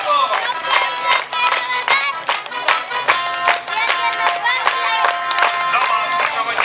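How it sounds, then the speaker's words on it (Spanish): A crowd of children and adults claps in time to the music at a clown show in Lo de Marcos, Puerto Vallarta; the claps land in a steady beat close by, with voices mixed in. "Aplaudiendo el ritmo de la música."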